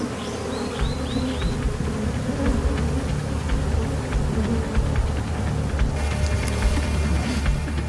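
Thousands of honeybees swarm densely around hives during an acacia honey harvest, a loud, continuous buzzing drone up close with a low mechanical hum underneath.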